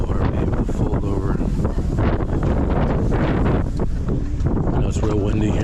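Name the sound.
strong wind blowing on the microphone outdoors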